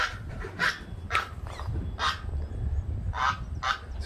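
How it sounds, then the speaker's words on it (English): A goose honks repeatedly outdoors at a rural Puerto Rico home, a run of loud, evenly spaced honks heard nearby over low background noise. "There's a goose."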